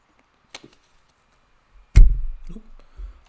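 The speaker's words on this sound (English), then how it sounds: "I just banged the microphone with my water bottle." A water bottle bangs against the microphone with one sharp, loud thump that rings out for a moment, after a small tap earlier. Near silence surrounds it.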